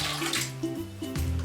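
Water from a measuring jug is poured into a bowl of boxed cake mix with eggs and oil, a soft, steady splashing trickle that comes and goes in short bursts, close and quiet, with no talk.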